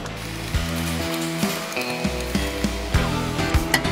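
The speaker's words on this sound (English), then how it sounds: "Now we loosen the winch up." Ratchet winch on a wheel kit for a Major, Powerlock or Arrowlock unit being loosened, giving a series of sharp metallic clicks every half second or so over a steady mechanical hum.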